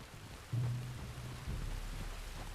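Rain in Red Dead Redemption 2 falls as a steady background wash. A low rumble swells partway through and then settles back under the continuing downpour.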